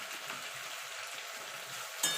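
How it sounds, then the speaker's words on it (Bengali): Potato and brinjal sauté with spices in a pan, giving a soft, even sizzle that hisses quietly throughout, ending with a brief sharper clink or stir at the close. "এবার ভালো করে মশলার সঙ্গে আলু বেগুনটাকে একটু কষিয়ে নেব"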